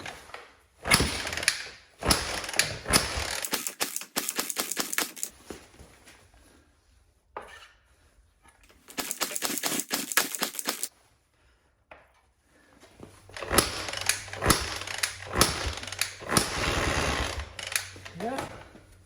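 A 1985 Honda XL250R RFVC motorcycle, abandoned for years, is cranked in three bursts of rapid mechanical chatter, with quiet gaps between the attempts as the engine struggles to start.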